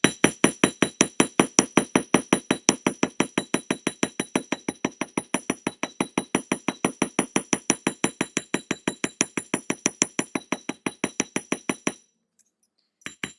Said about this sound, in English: So we'll put that on our bench block. We're going to hammer away.